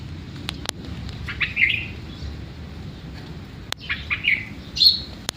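A few short, high bird chirps sound at scattered moments over a quiet outdoor background, with faint clicks in between.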